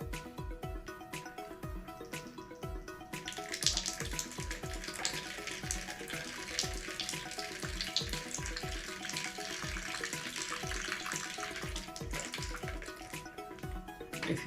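Water streams and drips steadily during a neti pot nasal rinse, a close, continuous trickling splash with small irregular spatters and faint background noise.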